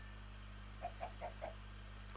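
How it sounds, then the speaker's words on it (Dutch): A chicken in the video game Minecraft clucks four times in a quick, evenly spaced series, clear and fairly close over a steady low background hum, with silence after. "We hebben gewoon een kip gevonden."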